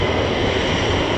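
An Italian Air Force C-130J turboprop transport passes near Lakenheath, UK, making a loud, steady roar of engines and propellers over the whole brief moment.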